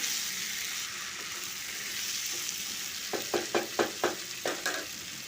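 Boneless meat, about 700 grams in large pieces, sizzles steadily in a pan, then a run of about eight rhythmic scraping stirs cuts through the hiss near the end.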